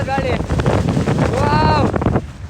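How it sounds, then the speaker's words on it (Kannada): Strong wind on the foggy Kodachadri hilltop roars across the microphone in a loud, continuous rush, with a voice speaking over it. "ಅದೇ ಯಾವ ಥರ ಗಾಳಿ."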